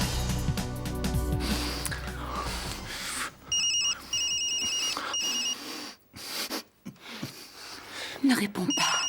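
A telephone rings in repeated electronic bursts over a scene from the telenovela Rubi, first under music and a voice, then in several clear rings with pauses, while people talk nearby.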